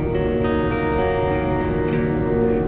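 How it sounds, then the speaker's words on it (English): Electric guitar recorded through a Line 6 UX1 interface, a continuous sustained chord with ringing harmonics and slight reverb, steady and moderately loud with no voices. "what you're hearing now is the guitar"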